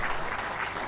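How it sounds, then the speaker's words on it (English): An audience bursts into applause at a presidential press conference, a dense, sustained clapping that fills the whole stretch with no voices on top. "I think we should clap for people like"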